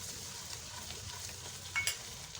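Whole red chillies added to browning masala for Pakistani-style urad daal mash, a soft steady sizzle with faint stirring and a brief clink near the end.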